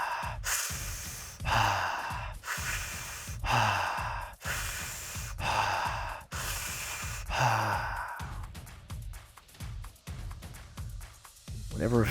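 Fast rhythmic breathing, in through the nose and out through the mouth, with close, loud, airy cycles repeating about once a second and gasping, sigh-like exhales.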